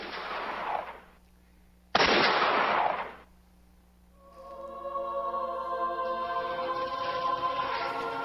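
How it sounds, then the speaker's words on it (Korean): Two sharp gunshots are heard in a news documentary about a 1950 Korean War shooting on a seaside sandy beach. Each blast booms and fades, and a sustained tonal musical drone then rises and continues underneath. "어느 바닷가 모래밭에서 날카로운 총성이 울려 퍼졌다"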